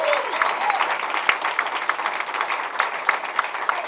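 A crowd applauds at a comedy bootcamp graduation show, a dense, steady wash of clapping with a few sharper claps standing out. A voice is briefly heard at the start.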